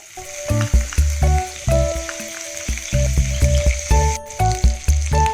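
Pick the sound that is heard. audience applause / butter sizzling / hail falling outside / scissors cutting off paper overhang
butter sizzling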